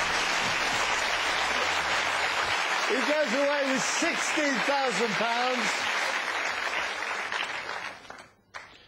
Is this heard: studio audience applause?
yes